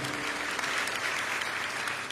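A church congregation applauds during a sermon, with dense, even clapping that fills the whole short stretch and no other sound standing out.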